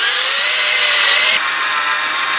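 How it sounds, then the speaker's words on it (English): Power drill boring out holes in a billet crank pulley on a 700 hp Whipple-supercharged AMG, a loud, close, high-pitched continuous whine that drops slightly in pitch partway through. "And that'll really just sink that drill."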